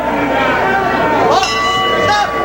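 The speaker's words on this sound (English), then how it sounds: "Bell goes just as the count finishes" A boxing round-end bell rings out over a loud arena crowd and a commentator's voice, a bright metallic clang arriving partway through and ringing on briefly.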